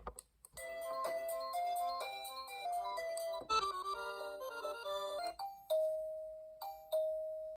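A doorbell chime plays a multi-note melody close up, followed by a few single sustained dings that ring out and decay, clear and fairly quiet with no talking.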